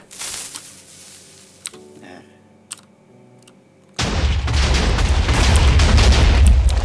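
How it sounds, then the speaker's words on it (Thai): TNT blows up in Minecraft: after several quiet seconds with a few sharp clicks, a loud, sustained roaring blast erupts and rumbles on steadily to the end, up close and alone. "วาง TNT แล้วก็ระเบิดมันทิ้งซะ"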